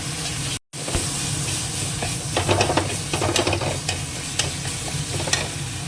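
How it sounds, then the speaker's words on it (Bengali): Coriander, turmeric and chili powder fry in a pan while being stirred, a steady close sizzle broken by repeated scraping strokes of the spatula, with a brief dropout near the start. "ধনে দিয়ে দেবো হলুদ গুঁড়ো অল্প একটুখানি লঙ্কা দিয়ে এবার একটু কষিয়ে নেবে মশলাটাকে"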